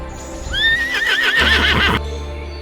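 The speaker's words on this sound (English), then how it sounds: "H for horse." A horse gives one loud, close whinny that rises and then shakes in a quavering fall over about a second and a half, with faint hoof clip-clops and no talking.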